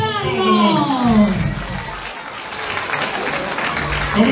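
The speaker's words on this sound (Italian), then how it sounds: "Un applauso a Giancarlo!" An outdoor carnival festival crowd in Sardinia applauds as the presenter is called up, a loud mass of clapping mixed with voices and children calling out, while a swooping tone and the announcer's voice sit over the noise.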